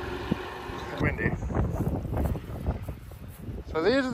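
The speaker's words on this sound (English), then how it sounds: "Windy." Gusty outdoor wind buffeting the microphone during an alfalfa bale loading job, a steady low rumble with surging gusts throughout and a brief whistling tone near the end.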